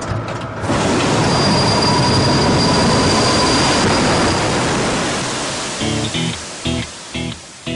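An Airbus A380 evacuation slide deploys over the wing with a loud, sustained rushing hiss as it inflates, fading gradually and then giving way to short knocking bursts near the end.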